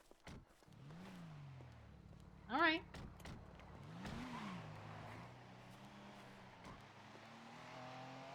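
Car engine in a video game role-play session, a steady drone that rises and falls with a brief squealing burst partway through, running under casual talk from players.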